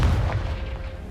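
A Confringo fire spell bursts in Hogwarts Legacy, a single deep, booming blast that opens loud and decays quickly into a low rumble.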